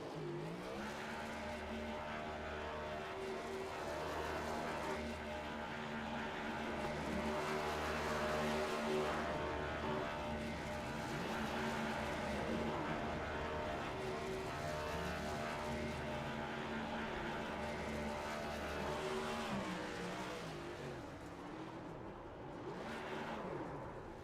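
Race car engine in iRacing at Las Vegas, the No. 78 car rolling past the finish line, a steady droning engine note holding a constant pitch throughout with no talk.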